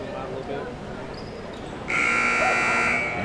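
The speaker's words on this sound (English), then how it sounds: "And there's the second of the 30-second buzzers to come out of the timeout." A 30-second timeout buzzer sounds at a women's college basketball game, a loud sustained electronic blare that cuts in over the arena noise and crowd chatter and holds steady to the end.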